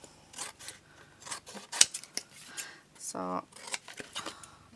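Scissors cutting card while making a box for a snap card game: repeated close, crisp snipping and rustling strokes of the blades through card, with a brief spoken word from a person in between.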